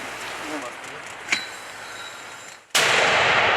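A mortar round fires at a Ukrainian frontline position: a brief sharp crack early on, then a sudden loud, sustained blast that fills the end, with soldiers' voices nearby.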